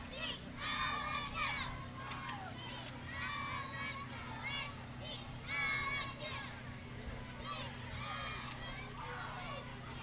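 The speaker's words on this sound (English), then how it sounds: "They're putting on a little cheer for us." A children's group, the Midway group, chants and cheers in unison at the 2012 Kingston Christmas Parade, a steady run of shouted, rhythmic voices with repeated bursts over crowd noise and a low constant hum, heard from a moderate distance.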